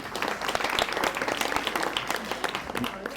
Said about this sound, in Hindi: तालियां बजाने के लिए एक बार प्लीज